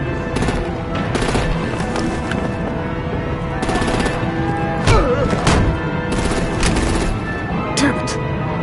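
Rapid bursts of automatic gunfire crackle repeatedly in a Batman: The Enemy Within game scene as artillery opens up on vehicles, sharp volleys recurring over a steady backdrop of music and effects.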